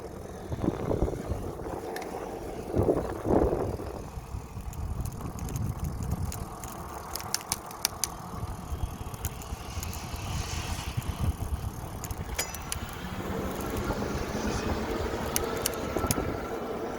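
A Yamee XL 750W electric bike rides along outdoors with a steady rolling hum and wind rush, plus occasional faint mechanical ticks from the drivetrain throughout.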